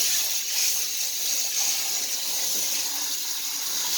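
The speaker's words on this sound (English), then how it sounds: "Just give her a quick rinse." Water from a hose rinses red clay mud off a nursing mother dog outdoors, a steady close-up spray and splash with no pauses.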